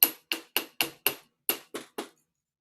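A hammer strikes the edges of a wire pin to spread and bow its surface: eight sharp, bright impacts in an uneven rhythm, close and clear with nothing else around them.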